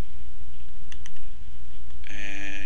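A computer mouse clicks a few times at close range over a faint background hum, followed by a bright electronic tone.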